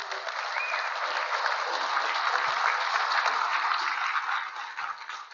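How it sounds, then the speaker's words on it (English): A warm round of audience applause at a lake association annual meeting, dense and even clapping from a sizable indoor crowd that tapers off at the end. "let's give them a round of applause"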